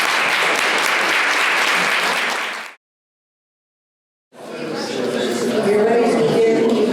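An audience at a 2019 League of Women Voters candidates forum in Schenectady claps loudly in a sustained burst, falls briefly silent, then breaks into a second round of applause mixed with a few voices.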